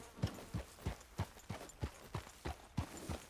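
A horse walks slowly in the video game Red Dead Redemption 2, its hooves landing in an even clip-clop of about ten soft, evenly spaced thuds, fairly quiet and with no talking.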